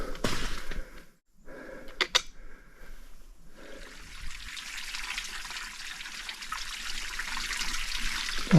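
A small stream trickles along the Appalachian Trail in fall, a continuous soft watery babble close by, with a few handling clicks early on before the flow settles into a steady, fairly quiet rush.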